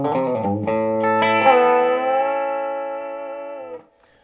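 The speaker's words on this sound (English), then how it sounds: "So here we are with a Dano single cut, seeing what sort of tones we can get with this going into this fine amplifier." A Danocaster 52 single cut electric guitar played through a Todd Sharp JOAT 20 amplifier gives a few quick picked notes and then a ringing chord that sustains brightly before being cut off.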